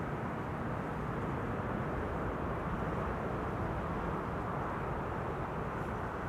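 Boeing 777-200 airliner, 18 years old, arriving at Schiphol on the Kaagbaan runway, a steady broadband roar that holds loud and even throughout with no break.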